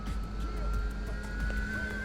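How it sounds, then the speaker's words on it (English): A car approaching in the video game Xenoblade Chronicles X, a steady engine hum with a rising tone that holds through the whole short stretch at moderate loudness. "I was about to be hit by a car."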